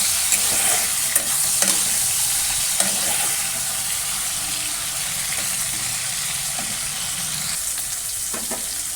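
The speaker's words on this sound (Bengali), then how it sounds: "আর এই কড়াই দিয়ে দিয়েছি তেল চিংড়ি মাছটা ভেজে নিই চিংড়ি মাছ ছেড়ে দিলাম" Prawns fry in hot oil in a wok (kadai) for a Bangladeshi-style prawn bhuna, giving a steady, close sizzle with scattered small pops and clicks throughout, with no voices.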